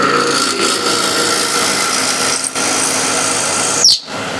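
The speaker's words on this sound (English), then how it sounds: "You can drill the depth hole" A power drill whines steadily at close range, boring into wood, with a brief dip midway and a sharp squeal as it stops.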